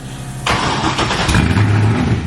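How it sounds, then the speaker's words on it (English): A drift car engine cranks and catches, then settles into a loud, steady rumbling idle close by. "He's gonna start up his drift car."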